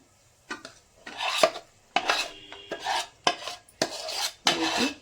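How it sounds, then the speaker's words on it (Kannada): Hot peanut chikki mixture scraped from a pan onto a plate, a series of about eight close, harsh rasping scrapes of a metal utensil, each short and separated by brief pauses. "ಈಗ ಪ್ಲೇಟ್ಗೆ ಸೇರಿಸ್ಕೊತಾ ಇದ್ದೀನಿ ನಾನು"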